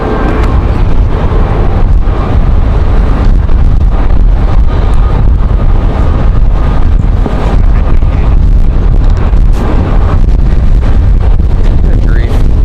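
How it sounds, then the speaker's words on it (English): Strong gusts of around 31 knots buffet the microphone at Raleigh Durham International Airport, a loud, constant roaring rumble of wind noise filling the whole stretch with no pause. "Looking at 31 knots wind gusts"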